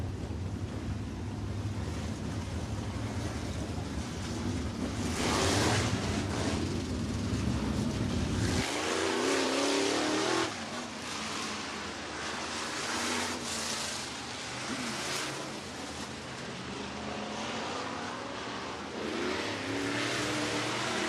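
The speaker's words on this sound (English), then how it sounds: "Final hot lap qualifying group here out on the track." Race cars on hot qualifying laps at Talladega Short Track, with steady engine roar and wind-like rushing noise sweeping past at a distance for the whole stretch, surging louder and fading as cars pass.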